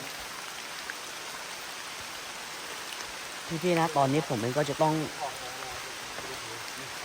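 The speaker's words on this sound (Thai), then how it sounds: "พี่ปลาทูแล้วเราจะหลบฝนที่ไหนดีครับ" Steady rain falling outdoors, a soft even hiss throughout, with someone talking briefly in the middle.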